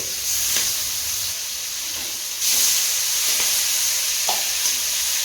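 Oil sizzles and spatters as river catfish fries, a steady close hiss with a louder surge partway and occasional pops, no talk.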